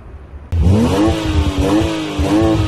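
A Maserati Ghibli engine barks to life with a sudden sharp rev, then holds a loud, rising and falling growl close by for a couple of seconds.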